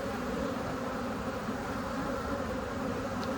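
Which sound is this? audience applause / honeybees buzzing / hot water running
honeybees buzzing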